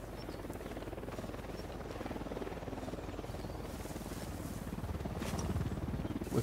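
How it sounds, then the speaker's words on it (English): A helicopter flies over the landscape in the video game Ghost Recon Wildlands, its rotor giving a steady, rapid chopping thrum at moderate distance that swells slightly louder toward the end. "There's the chopper."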